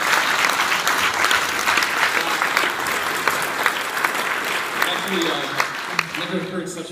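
An audience at a PAX East 2014 convention panel on mythology in games breaks into sustained, loud applause with scattered claps and cheers, fading at the end as the room quiets.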